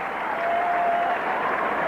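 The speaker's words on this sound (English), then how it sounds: "Notre Dame student section beginning to cheer" Notre Dame student section cheering during a 1984 college football game against Purdue, a dense, steady roar of crowd noise and clapping from a large stadium section.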